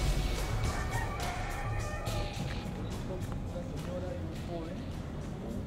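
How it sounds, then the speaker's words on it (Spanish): Roosters crowing at a rooftop rooster-breeding site in a house, several overlapping crows rising and falling against a dense, noisy background, with a voice talking over them. "un criadero de gallos."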